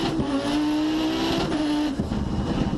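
A rally car races flat out with a loud, continuous engine wail that holds high, shifts pitch once and then drops off, heard from inside the cabin with no talk.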